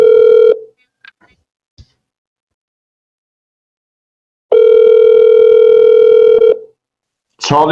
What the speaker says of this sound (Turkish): Çalıyor var, Rasim çalıyor